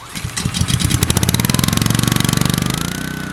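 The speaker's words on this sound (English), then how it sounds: "Powered by a lawnmower engine, a spinning tube throws the rocks into a steel ring, smashing them to dust." A lawnmower engine powering a homemade rock impact crusher with a spinning tube and steel ring pulls into life and settles into a loud, steady, rapid putter that runs to the end, with no talk over it.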